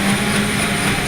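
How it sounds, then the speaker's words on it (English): A military helicopter drones loudly and steadily during Scout Ranger heliborne training, its engine and rotor noise forming a continuous close roar with no talk. "Landing into hostile territory, a helicopter is a big target."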